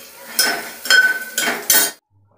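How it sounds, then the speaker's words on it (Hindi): A metal spoon clatters against a cooking pot while dal is tempered with onion and garlic: four short, bright bursts of clinking and scraping, close by, then silence. "यहाँ मैं अब दाल बना रही हूँ, दाल को छौंक रही हूँ"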